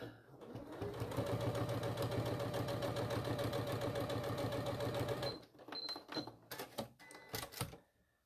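A sewing machine runs steadily for several seconds, stitching a seam on a small mini bag with a fast, even mechanical chatter, then stops and gives way to a few clicks and handling knocks.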